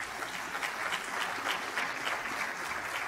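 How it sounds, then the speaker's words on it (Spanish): A church congregation breaks into sustained applause, a broad, even roar of many hands clapping together with no talking over it. "Denle un aplauso al Señor."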